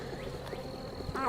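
Bees hum in a crowded beehive opened for a swarm cell check, a thin steady drone running beneath a person talking nearby.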